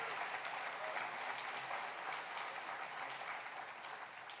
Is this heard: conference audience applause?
yes